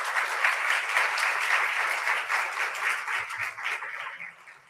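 An audience at a poetry event applauds after a recitation, a dense, steady wash of many hands clapping that holds strongly for several seconds and then gradually thins and fades.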